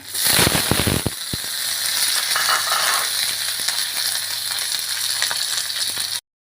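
Mustard seeds spluttering and popping in hot oil while tempering for a Kerala-style sardine curry, a loud, dense crackle with sharp pops up front settling into steady sizzling that runs for about six seconds, then stops.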